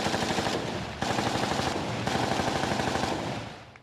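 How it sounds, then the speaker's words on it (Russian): Rapid machine gun bursts at a firing exercise with an RPK, dense fast shots running almost continuously in three long strings with brief breaks, loud and close, then tailing off at the end. "Пулемет, пулемет"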